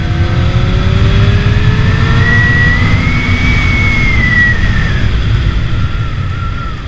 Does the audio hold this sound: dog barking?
no